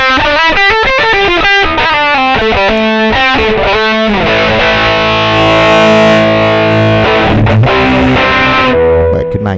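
A heavily distorted electric guitar through a Tech 21 OMG Richie Kotzen pedal plays chugging chords and sustained notes, thick and saturated, loud and close with no voices.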